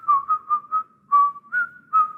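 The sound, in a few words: whistling Tchaikovsky's Dance of the Mirlitons from The Nutcracker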